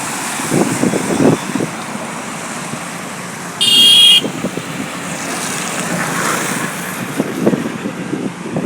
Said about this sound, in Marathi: कोल्हापुरातून येणारी ही जी वाहनं आहेत हा जो हायवे आहे